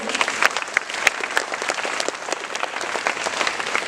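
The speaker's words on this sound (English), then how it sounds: "Let's have a round of applause for our friends" A school assembly audience applauds, a dense, lively round of many hands clapping close by with a few sharper individual claps standing out, continuous for the whole stretch.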